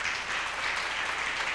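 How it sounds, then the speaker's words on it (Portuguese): A church congregation claps in a dense, steady wash of applause that fills the short stretch alone, with no voice on top. "Vamos aplaudir a Jesus?"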